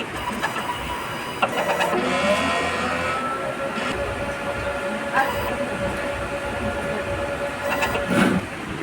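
A sublimation printer runs a print head cleaning cycle, a mechanical whirring hum with a steady tone, clicks and motor shifts, close and continuous.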